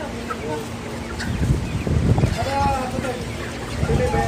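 Chickens cluck and squawk at a busy live poultry market selling native chickens and pigeons in Jeddah, with scattered calls over a steady background hum and some nearby activity.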